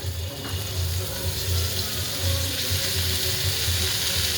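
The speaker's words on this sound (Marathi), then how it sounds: "आपला मसाला भाजलेला आहे पूर्ण आता आपण हा फ्लावर टाकून घेऊया" Cauliflower florets drop into a pan of roasted masala and set off a loud, steady sizzle and frying hiss that holds evenly throughout, close by and with no speech.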